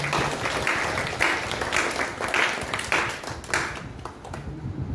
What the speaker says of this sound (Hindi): जोरदार तालियां होनी चाहिए गुरुजी के लिए